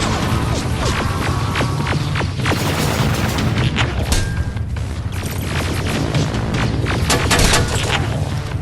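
Grenade blasts and gunfire rattle through a Terminator Resistance firefight, booming explosions and rapid shots piling up in a loud, continuous barrage with no pause.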